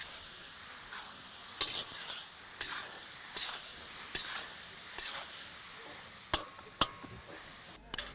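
Venison chili stirred in a pan, with a steady low sizzle and a run of sharp spoon scrapes and taps coming at roughly one-second intervals, close and moderately loud, no voices.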